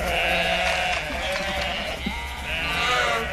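A flock of sheep in the Carpathian countryside bleats continuously, many overlapping wavering calls forming a dense, steady chorus at moderate distance, with no talking.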